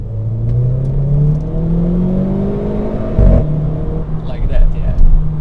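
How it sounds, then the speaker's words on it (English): Renault Clio RS 220 Trophy with an Akrapovic exhaust launching hard, engine note rising with revs and a short burbling crackle at the upshift, close and loud, with someone speaking over it. "when you launch it, it's gonna make some nice brab brab when it shifts"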